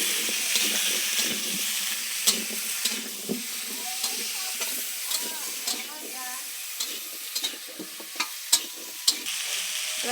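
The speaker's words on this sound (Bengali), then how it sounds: "এবার দেখো কেটে ধুয়ে রাখা আলুটা দিয়ে দিচ্ছি।" Cut, washed potatoes drop into spices frying in a pan and get stirred, giving a steady sizzle with sharp scraping clicks and clatters from the spatula.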